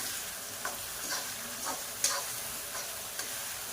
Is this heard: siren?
no